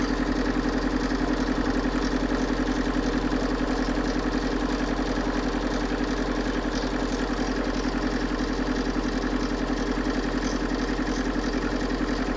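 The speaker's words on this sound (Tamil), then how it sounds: "இன்ஜின் ரன்னிங் தான் இருக்குது." A Tata Sumo Grande diesel engine idles with an even, unbroken low chug and mechanical vibration for about twelve seconds, heard up close and alone, without any voices.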